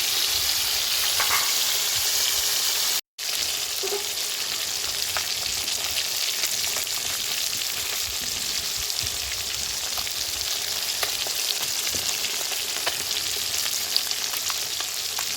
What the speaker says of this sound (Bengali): এইভাবে উল্টো পাল্টে ভেজে নেবেন।